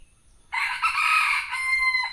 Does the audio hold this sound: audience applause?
no